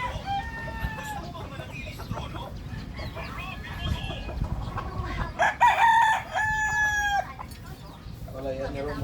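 Roosters crow repeatedly in long rising-falling calls while hens cluck around them, several birds close by in a busy yard, with people talking in the background.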